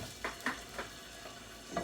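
Chicken breast, legs and thighs fry in a pan with a faint, steady sizzle, broken by a few soft stirring scrapes.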